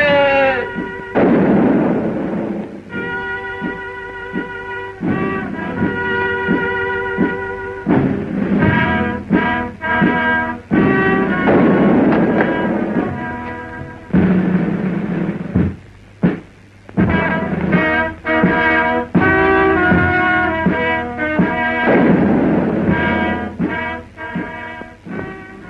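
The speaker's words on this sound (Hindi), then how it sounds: "आपकी सलामती की तोपें दागी जा रही है।" Cannons fire a salute as an emperor arrives at court in a 1958 Hindi costume film: repeated heavy booms, loud and close, mixed with sustained band music throughout.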